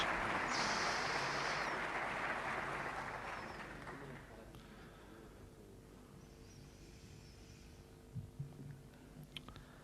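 Applause from deputies and senators filling the Spanish parliament chamber at the 1978 sanction of the Constitution, a broad sustained wash that starts loud and gradually fades over several seconds, leaving a low hum with a few faint knocks.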